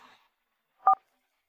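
A single short telephone keypad tone beeps once, clear and close, after a brief faint sound at the start, with silence around it.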